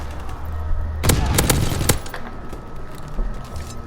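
A short burst of several sharp, cracking gunshots fires in a Call of Duty match, clustered within about a second amid steady in-game background noise.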